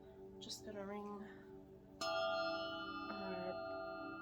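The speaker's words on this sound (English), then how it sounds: "chime again." A meditation chime is struck twice, each ring leaving a clear, sustained, shimmering tone that fades slowly; a quiet voice speaks briefly before the second strike.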